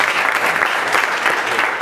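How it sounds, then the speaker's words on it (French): Audience applauding at a gathering in Mbandaka: dense, continuous crowd clapping, loud and even, with no speech over it. "Est-ce qu'on peut applaudir pour les cadeaux?"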